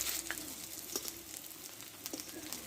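Lentil and pointed gourd fritters fry in hot oil, a soft steady sizzle with faint crackles and a few brief scrapes, close by and with no voices.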